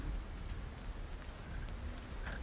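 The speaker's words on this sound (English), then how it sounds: "The rain continues to come down from above relentlessly." Steady heavy rain pours down in a storm, a dense continuous hiss with faint scattered drop impacts and no voices.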